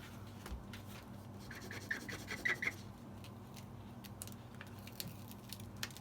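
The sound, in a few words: rubbing hard card over transfer tape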